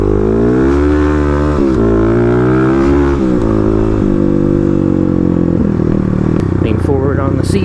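A Kawasaki KLX351 dirt bike rides off-road during cornering practice, its single-cylinder engine loud and close, revving up and easing off repeatedly as it shifts pitch through the drill.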